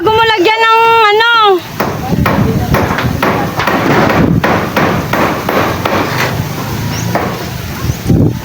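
Repeated hammer blows at a steady pace, nailing metal roofing sheets against a rushing wind, following a brief whistle-like tone at the start; close and loud.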